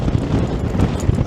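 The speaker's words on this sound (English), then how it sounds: "I think you'll be able to hear that wind" Strong wind buffeting a microphone outdoors on a seaside ride, a continuous loud low rumbling roar with uneven gusty surges and no pauses.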